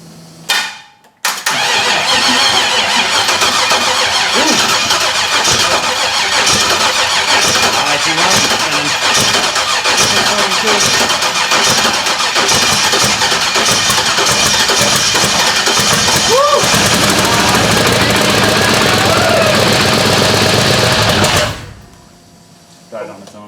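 A kei truck engine on its first test fire after a build cranks and catches, then runs loud and rough at a steady idle for about twenty seconds before dying on its own, with voices faintly present.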